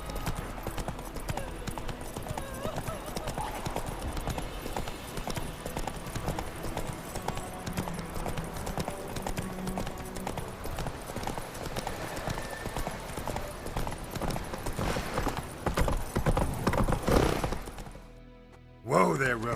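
Roach, a horse in The Witcher 3, trots with a steady, close clip-clop of hooves throughout, under game music and bursts of character dialogue, ending in a brief drop and a final thud.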